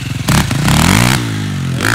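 A KTM quad engine revs hard up close while pulling wheelies, a loud rising snarl that climbs in pitch and then holds, with some clatter at the start.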